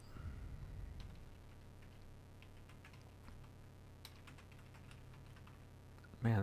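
Keys clack steadily on a loud computer keyboard, a fast irregular patter of close, sharp clicks with a louder thump at the end and no voices.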